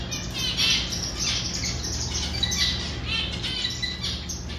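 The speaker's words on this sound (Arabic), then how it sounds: "احنا نسمي هذا يمام، يمام احمر" Red turtle doves at a door in a home aviary squawk and chirp repeatedly, a busy, fairly loud chorus of harsh calls over steady background noise.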